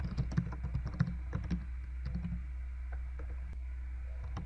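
Rapid typing on a computer keyboard, a close run of light clicking keystrokes in uneven bursts, quiet and unaccompanied by speech.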